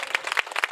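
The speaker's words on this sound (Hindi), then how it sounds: "एक जोरदार ताली हो जाए।" An audience claps at a Ashok Vijayadashami and Mahishasur commemoration ceremony in Barwaiya, Patna, producing a brief burst of dense, close applause.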